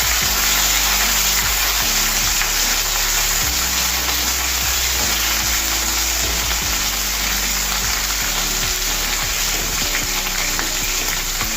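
Chopped onions frying in oil in a pan for aloo matar pulao, a steady loud sizzle running throughout, broken by scraping stirs of a spoon at irregular moments.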